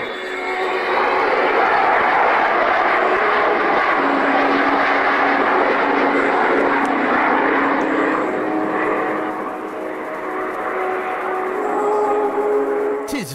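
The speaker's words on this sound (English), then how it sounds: "the sound of the Vulcan will cut in" An Avro Vulcan jet bomber roars overhead at an air show, a broad sustained rumbling howl rising and holding loud before easing slightly, with faint steady tones layered under it.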